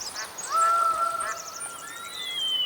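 Many ducks call outdoors during hunting season, giving honking, goose-like cries that stack into a loud chorus with long drawn-out calls, some near and some farther off.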